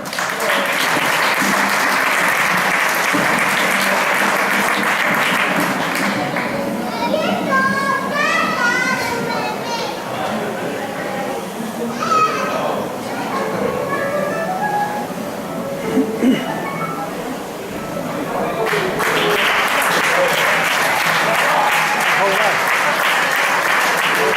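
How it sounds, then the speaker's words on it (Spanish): An audience at a school end-of-year gala festival in Puerto de Sagunto applauds a dance group, with loud sustained clapping that gives way midway to children's voices and chatter before the applause swells again. "un aplauso por favor"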